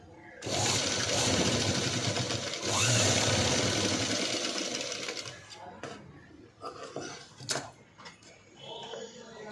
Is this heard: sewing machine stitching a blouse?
yes